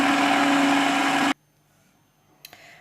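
An electric mixer beats cake batter with a loud, steady motor whir for just over a second, then cuts off abruptly, leaving near silence and a couple of small clicks.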